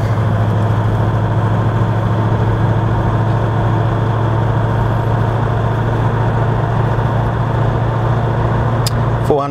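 A diesel vehicle with a DPF and flash tune accelerates at full throttle in fourth gear from 60 to 80, heard from inside as a loud, steady engine drone with a strong low hum that stays constant.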